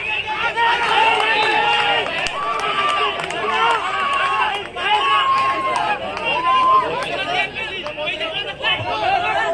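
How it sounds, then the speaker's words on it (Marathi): Lively crowd at an outdoor kabaddi match between Shri Vithal Koparpada and Navyuvak Khidki, cheering and chattering continuously with whistles and shouts rising over the babble, loud and close throughout. "एक तेवढा जल्लोष पाहायला मिळतो आपल्याला या ठिकाणी"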